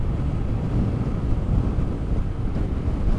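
Strong wind buffets the microphone on a motorbike running at about 80 km/h on a homebound holiday ride from Demak to Bogor, a continuous loud low roar with gusty fluctuations.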